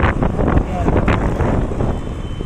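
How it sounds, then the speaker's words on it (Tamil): Heavy wind rushes and gusts against the microphone while riding a motorbike, a loud, uneven rumbling blast that fills the whole moment. "காற்று ரொம்ப அதிகமாக இருக்குது"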